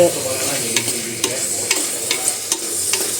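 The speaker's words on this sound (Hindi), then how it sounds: "तो चलो मैं सब्जी छोंक लेती हूँ यहाँ पे।" Vegetables frying in hot mustard oil in a clay pot, with a steady loud sizzle and occasional sharp scraping clicks from stirring, no voices.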